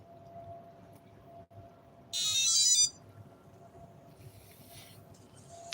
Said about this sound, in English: let's check out a rod that gave alarm